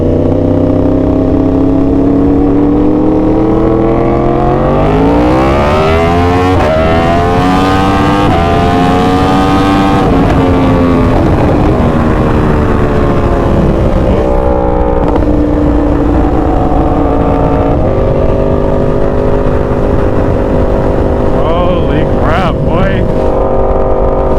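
A loud engine with a new exhaust revs up and down repeatedly, its deep throaty exhaust note rising and falling in pitch, with a voice briefly audible underneath.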